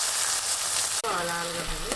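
Onions frying in a pan give a steady sizzle, briefly broken by a sharp clatter as a utensil stirs, after which a faint tonal hum rises over the continuing crackle, close and moderately quiet.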